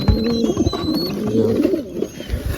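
A wild pigeon coos close by in a series of low, throaty, rolling calls, while softer bird sounds and light rustling fill the background.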